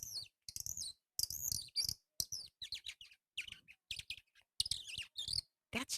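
A small hand-held bird whistle imitates birdsong in quick bursts of bright chirps and warbling trills separated by brief silences, close and clear with no talk.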